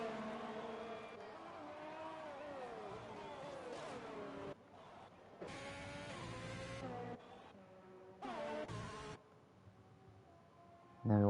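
Simulated Formula 1 car from the F1 2020 game on a qualifying lap at Austria, its engine whine rising and falling through gear changes with abrupt cuts and shifts, loud and close, with commentary voices over it.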